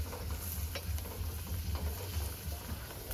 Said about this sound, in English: we're going to go ahead and saute it